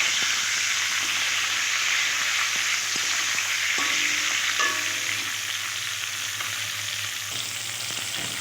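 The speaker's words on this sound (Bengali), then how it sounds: "দেখো, মাছের মাথাটা ভাজা হয়ে গেছে।" A rohu fish head fries with salt and turmeric while being stirred in the pan, making a continuous close hissing sizzle with a few soft clinks, with no talking.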